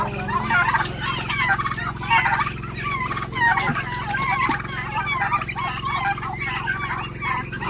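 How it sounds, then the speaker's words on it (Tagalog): A flock of turkeys gobbles repeatedly in overlapping bursts, loud and close, over a constant low background hum. "Ang pabo dyan."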